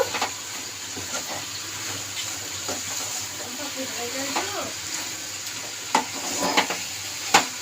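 Papaya curry with salt being stirred in a pan, irregular spatula scrapes and knocks over a faint sizzle, close by, with a soft voice briefly audible in the background.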